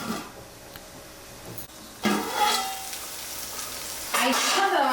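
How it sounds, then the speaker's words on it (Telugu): Tomatoes frying in oil in a lidded pan on a low flame while gongura chicken is made. Faint sizzling builds into louder bursts of crackle at about two and four seconds, with no talking. "వీటిని కూడా మూత క్లోజ్ చేసి 5 మినిట్స్ ఫ్లేమ్ సిమ్లో ఉంచి ఫ్రై చేసుకోండి."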